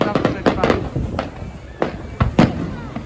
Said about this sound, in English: Ah, that's a big bang.